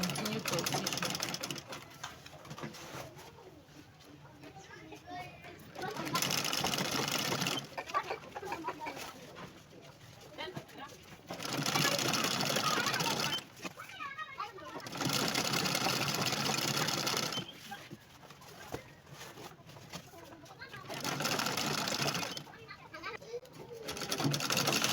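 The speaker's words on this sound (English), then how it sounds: "So I'll continue from the midpoint and continue top stitching." A sewing machine top stitching a dress runs in repeated bursts of several seconds with short pauses between, steady and close, while chickens cluck faintly in the background and a person talks now and then.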